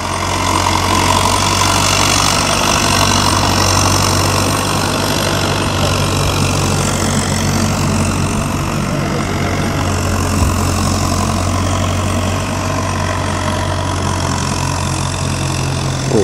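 A Belarus 562M tractor engine runs at a steady idle, a loud, close, continuous diesel rumble with an even low throb that barely changes, and no talking over it.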